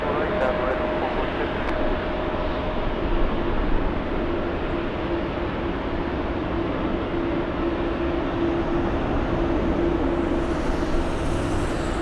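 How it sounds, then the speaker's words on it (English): A Delta Airbus A350 wide-body airliner at Los Angeles LAX, bound for Atlanta, gives a steady, loud broadband jet roar that holds evenly throughout, with a faint tonal whine riding above it. "We're looking at an Airbus A350"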